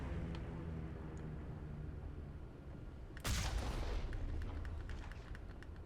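Gunfire erupts in the video game Mass Effect during a firefight, a sudden loud burst of shots at about the three-second mark followed by scattered fainter pops over a low rumbling background.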